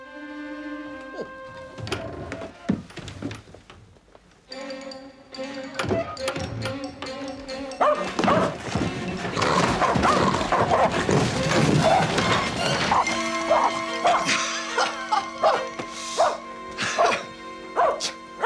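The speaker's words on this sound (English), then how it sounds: "You're surely not frightened of a tiny little dog, Jeeves." A tiny little dog barks and yips indoors in several short bursts, with music playing and people talking around it.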